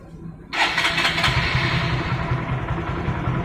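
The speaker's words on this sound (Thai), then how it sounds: "ไหนลองสตาร์ทเครื่องให้" A used motorcycle engine cranks and fires abruptly, then settles into a steady, quiet, rumbling idle close by.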